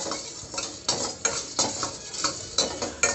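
Spices and poppy seeds dry roasting in a pan, stirred with a spoon in repeated light scrapes and clinks against the metal, close and fairly quiet.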